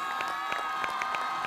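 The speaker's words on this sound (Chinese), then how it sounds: "为我们武艺老师鼓鼓掌吧" A live audience at a music roadshow cheers and claps for teacher Wu Yi, a dense, steady roar of voices with rhythmic clapping under it.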